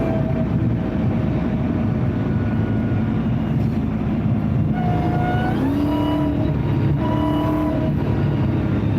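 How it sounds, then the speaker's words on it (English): A loud, steady Dodge Challenger SRT Demon 170 engine drone with rising and falling whining tones as it revs, heard close up and continuous throughout. "High performance vehicles sound like this."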